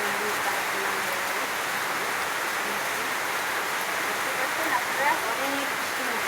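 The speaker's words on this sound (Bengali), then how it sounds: "আপনারা অনেক বৃষ্টি হচ্ছে, প্রচুর পরিমাণে বৃষ্টি হচ্ছে।" Heavy rain pours down outdoors in a steady, dense hiss that stays even throughout. A voice talks faintly beneath the downpour.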